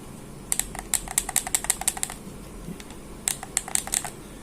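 Buttons on a copy PS4 controller clicked in two quick bursts, a steady run of sharp, close plastic clicks followed by a short pause and a second faster cluster, with no talking.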